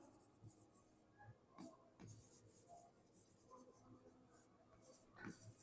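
Pen on paper writes out a narration line for an accounting journal entry, making faint, close scratchy strokes in short bursts and pauses, with no talk over it.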